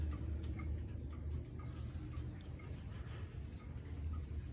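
A mechanical clock under repair, running with its chimes switched off, ticks in a steady, regular rhythm at a fairly quiet level with no voices.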